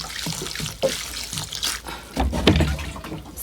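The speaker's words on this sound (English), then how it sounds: "I'm going to add water." Water pours from a tap into a small saucepan while ugali is being prepared in a Ugandan village, a soft splashing trickle that comes in uneven bursts, close and fairly quiet.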